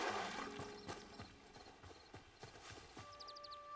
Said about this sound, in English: Okay, baby horses.